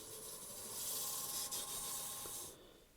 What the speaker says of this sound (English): And we'll do a bit of a hand sanding,